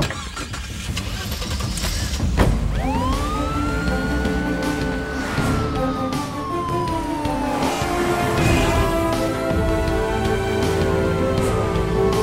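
Police jeep siren wailing as the vehicle drives off, rising and falling tones over a steady engine rumble, loud and close, with no speech.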